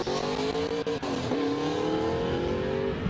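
A Toyota GT86 race car engine roars close by at the Croix-en-Ternois circuit, revving and accelerating with a rising pitch, loud and continuous.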